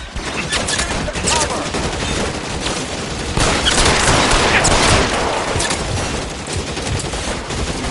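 Sustained gunfire in the LA Noire video game, with dense rapid bursts of shots and loud cracks rattling on and off, close and intense, and voices calling out between the volleys.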